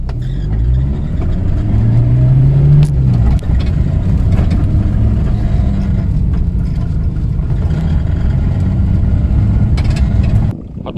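A car's SDI diesel engine idles steadily outdoors in an open field, its low, even drone holding for about ten seconds, with wind noise blowing over it and no talking.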